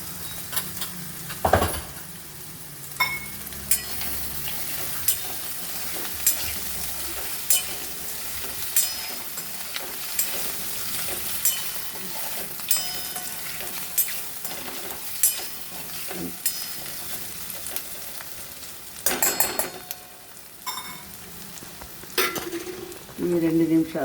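Taro pieces fry in hot oil with turmeric for a Telangana pulusu, giving a constant sizzle broken by frequent scraping and occasional sharp clinks of a spoon against the pan, close and fairly loud, with no voices.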